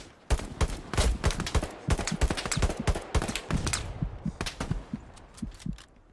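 Dense crackle of gunfire in Hell Let Loose on the Omaha Beach map, many overlapping shots near and far forming a continuous fusillade that thins out toward the end.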